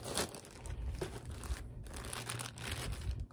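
A plastic bag crinkles and rustles while a yarn haul is unpacked, a continuous close crackling with uneven bursts and no talking.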